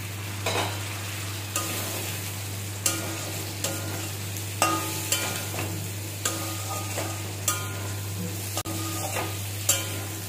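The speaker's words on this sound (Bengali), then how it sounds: "বেশ কিছুক্ষণ নাড়াচাড়া করে মিশিয়ে নেব মশলাটাকে ফুলকপির সাথে" Fried cauliflower is stirred into a cooked spice masala in a pan, with a soft continuous sizzle and regular scraping strokes of the spoon every second or so, close and alone with no talk.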